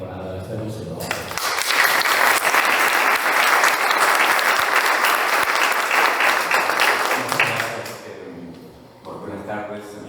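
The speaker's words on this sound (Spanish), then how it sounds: "si me acompañan para dar un aplauso a Daniel para agradecerlo" An audience claps for Daniel at a talk, a dense, loud burst of applause that swells quickly, holds steady for several seconds and then fades, with voices before and after.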